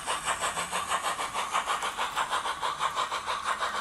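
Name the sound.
OO 2-6-2T model locomotive, Soundtraxx Econami sound chip exhaust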